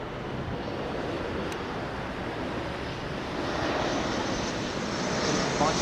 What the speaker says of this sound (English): It landed right the way off the centre line.